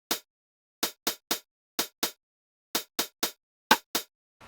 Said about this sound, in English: It's just a pretty simple kind of like offbeat syncopated hi-hats loop.